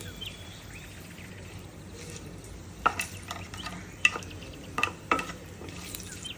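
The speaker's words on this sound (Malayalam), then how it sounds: "ഇതെല്ലാം കൂടെ നന്നായിട്ടൊന്ന് മിക്സ് ചെയ്യുന്നുണ്ടേ" A spoon stirring garlic and asafoetida in a pan with a faint background sizzle, broken by several distinct metallic taps and scrapes in the middle and later part, close and quiet, with no voices.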